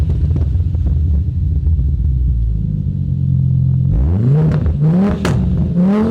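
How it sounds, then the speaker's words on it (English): Audi RS3 estate with a hybrid turbo engine making over 500 brake horsepower, exhaust valves open: a steady deep idle rumble, then loud revving blips around the fourth second with rising and falling pitch, close to the microphone, no talk. "I'd also like to hear the exhaust with the valves open"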